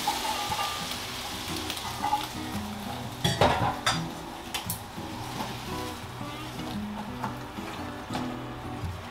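Miso ramen soup pours into a hot oiled pan with corn, bursting into sizzling, then a steady frying crackle and faint utensil clinks continue.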